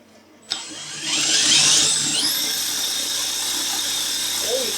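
A drill spins a Mercedes 560SL alternator on a workbench, a loud steady high-pitched whine that rises in pitch as it speeds up after a sharp start, then holds a sustained tone.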